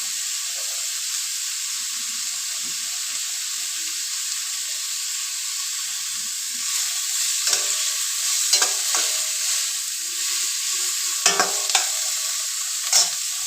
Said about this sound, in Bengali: আমি এখানে 4টে বড় সাইজের পেঁয়াজ দিয়েছি। ভালো করে ফ্রাই করবো।